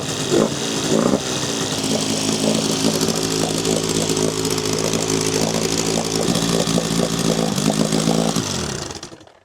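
Outboard boat motor with a freshly greased pull start, running steadily and loudly with a strong buzzing drone for about nine seconds before cutting off at the end.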